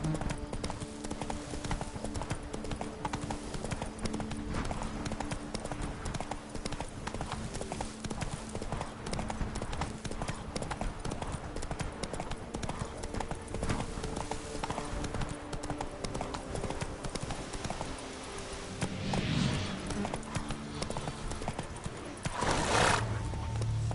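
Geralt's horse Roach gallops in The Witcher video game, with steady, close hoofbeats running throughout over a rumbling backdrop, a couple of whinnies near the end, and faint speech in the mix.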